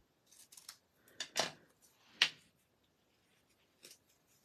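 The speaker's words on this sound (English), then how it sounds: "And this one, I'll cut this one." Scissors snip through card stock during a card-making craft session, a few close, crisp cuts with two louder snips in the middle and quiet gaps between them.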